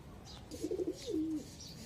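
Male pigeons kept in a loft give one short, soft, throaty coo rising out of low background noise, close by and alone.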